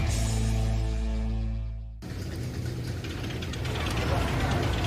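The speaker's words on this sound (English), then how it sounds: "This is the sound of the kind of thrill ride summer was made for." Thrill ride machinery at a summer night event clanks and ratchets, a steady mechanical hum giving way after two seconds to a dense, loud rattling of gears and moving parts, with faint crowd noise.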